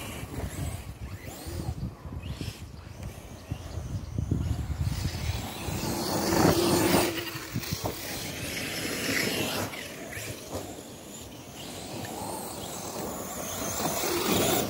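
Arrma Kraton 6S RC car driven outdoors, a steady buzzing motor whine rising and falling over a continuous wash of wind noise, with no talk.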